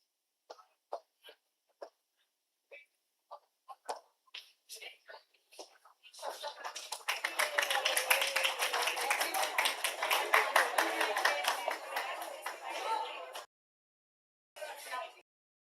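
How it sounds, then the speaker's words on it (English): A few scattered, isolated claps turn into a dense burst of audience clapping that lasts several seconds at a CEO and CHRO leadership forum and awards event at AU Noida, then fades, and a short final flurry follows after a pause. "This is not MIT clap."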